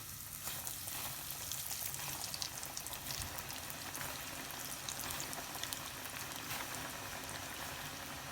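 Steady, dense sizzling and crackling of fish fillet frying in hot oil for sweet and sour fish, continuous and close with no talking.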